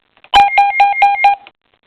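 A short burst of electronic beeps from a Midland WR120EZ weather radio alert test, five rapid two-tone pulses in quick succession, loud and close, then silence.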